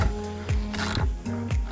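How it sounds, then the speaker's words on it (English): An electric impact wrench whirs and ratchets in short repeated bursts, tightening a spring compressor on a rear strut of a Honda CR-V RD1 during a spacer lift, close and fairly loud with no talking. "Now I'm going to be using my electric wrench where I can"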